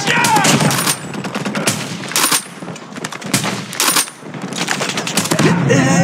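Call of Duty Mobile gunfire rattles in rapid automatic bursts and fusillades, loud and close, with brief pauses between volleys and faint in-game voice callouts mixed in.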